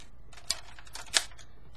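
Arms of a Lightspeed Rescue Megazord toy, the GoGo V robot, fold into place with two sharp plastic clicks about half a second apart, close and crisp against a quiet room.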